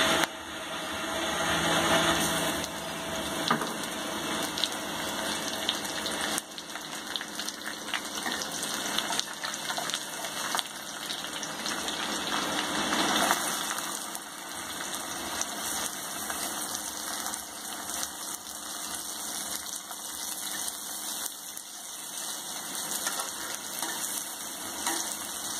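Cardamom, bay leaf, onion and garlic fry in hot oil for a spinach dal tadka, producing a continuous dense sizzle and crackle that holds steady and close for the whole stretch, with no voices.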